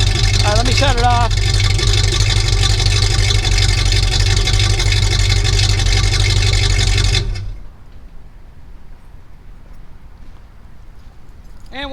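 A 1973 Plymouth Roadrunner with dual exhaust idles loud and steady with a deep low rumble, a brief rev near the start, then the engine shuts off leaving quiet background.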